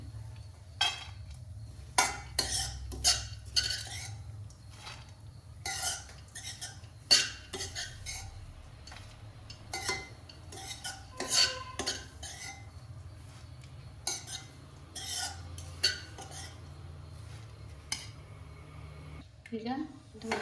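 Poppy seeds are tipped from a pan onto a plate with repeated light clinks and scrapes of a utensil against metal and ceramic, close up, while a person talks throughout.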